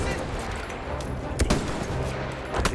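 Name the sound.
bomb explosion effects in a video game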